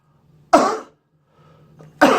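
A person coughs in two separate bursts about one and a half seconds apart, each loud, harsh and close, with near silence between them.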